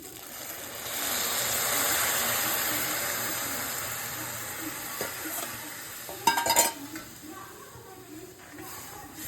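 Sago pearls being stirred into hot ghee in a pan for a sabudana jaggery payasam: a soft steady sizzle with scraping ladle strokes and a brief clattering burst near the end.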